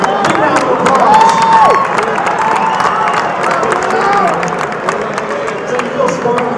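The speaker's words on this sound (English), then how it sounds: "Matt Vanda, big round of applause." A crowd applauds and cheers for boxer Matt Vanda after a fight, loud and close, with clapping, whoops and shouts blending into a sustained roar while voices call out over it.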